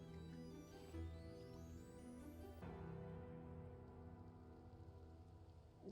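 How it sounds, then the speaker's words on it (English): Rain falls steadily in Minecraft, an even, continuous hiss running the whole time beneath sustained tonal background sound, with no talking. "Apologies for the rain's effect on the frame rate."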